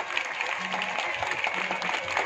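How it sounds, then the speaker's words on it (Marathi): An audience at a Malvani-language comedy drama breaking into steady, dense applause, a continuous crackle of many hands filling the hall from start to finish. "सगळे आताच वाजवा"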